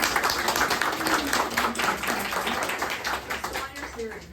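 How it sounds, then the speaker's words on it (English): People clap together at an art gallery solo exhibition, a moderate burst of clapping from a small audience with voices underneath, tapering off toward the end. "All right, let's clap first."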